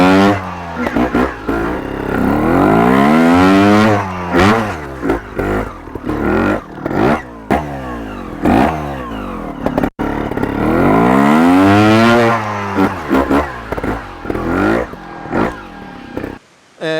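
A 2022 Electric Motion electric trials motorcycle climbs a muddy hill, its motor whining up and down in rising and falling sweeps with bursts of wheel spin and scraping, loud and close, pausing briefly midway.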